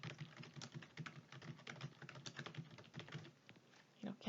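Rapid typing on a computer keyboard runs as a steady patter of soft key clicks, fairly faint and continuous, with a brief pause near the end.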